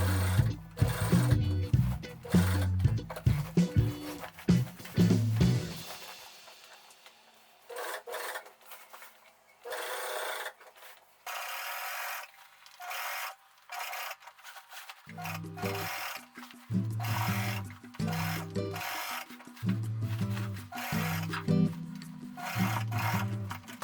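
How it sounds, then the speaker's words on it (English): Sewing machine stitching around a curved dress neckline, rapid whirring bursts separated by pauses, a longer quiet stretch midway, then more stitching runs, close and fairly soft with no speech. "Sew the neckline, being careful in the curves."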